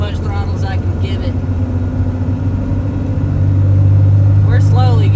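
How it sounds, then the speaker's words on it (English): A 1999 24-valve Cummins diesel truck fitted with 75HP injectors accelerates at full throttle with the torque converter locked, a low, droning engine note that grows louder and deeper in the second half, heard from inside with talking at the start and end. "That right there is about as much throttle as I can give it."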